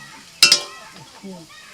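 Cabbage-leaf paste being stirred in a pan to dry it out, a couple of quick scraping clinks of a utensil against the pan followed by a faint softer scrape.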